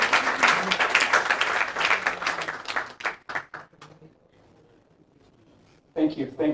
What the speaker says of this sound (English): So a big round of applause for Kiran and each individual on the stage.